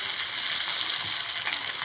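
Capsicum halves fry in a pan as they are stirred, a brief, even sizzling hiss heard up close at moderate volume.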